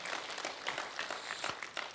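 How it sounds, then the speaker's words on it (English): Audience clapping at a city community meeting in Fresno, a short burst of scattered hand claps from a modest crowd lasting about two seconds. "Can I get a little clap on that one?"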